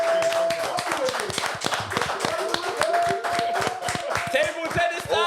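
A group of people clapping for Hackney Wick FC, brisk rhythmic handclaps close by, continuous and lively, with a voice talking over them.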